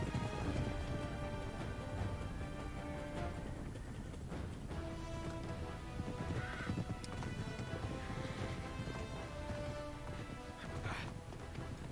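A horse's hooves clip-clop steadily in the video game Uncharted 3, a continuous rhythmic trot set against a dense ambient backdrop of game sound.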